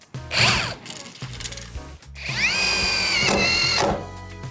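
A Dnipro-M DTD-201BC cordless impact driver drives a screw into aluminium, giving two loud, close bursts of whirring and rattling hammering, the second one longer and steadier.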